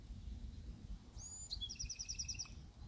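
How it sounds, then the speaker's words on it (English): Birds high overhead on a nature walk: a short thin whistle followed by a quick series of rapid high chirps, faint and distant over a low outdoor rumble. "There's lots of birds up there. They're talking to each other."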